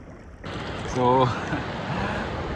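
Strong sea waves surge and wash around swimmers in the ocean, a loud, steady broadband roar setting in after a quiet first half-second, with a brief voiced cry partway through.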